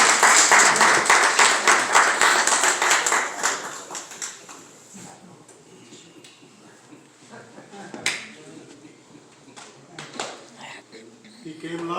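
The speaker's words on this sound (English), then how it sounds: "Let's give him a hand clap." A modest gathering at a clergy council holiday brunch claps hands for a few seconds, a close, lively patter of claps that quickly dies down, leaving quiet room sound with a few scattered knocks and sounds.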